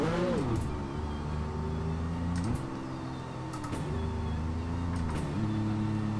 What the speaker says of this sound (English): Just listen to the sound of this car.